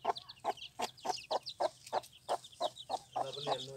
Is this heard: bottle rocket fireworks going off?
no